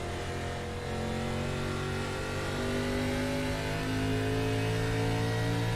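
A race car at the Milwaukee 150 exits a corner under throttle, its engine note rising steadily in pitch as it accelerates. The engine is loud and continuous, with no voices.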